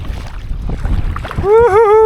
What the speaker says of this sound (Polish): Kurde, trzeba walczyć z falami.